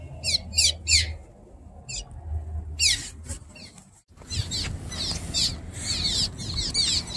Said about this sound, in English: All the swallows flying all around me.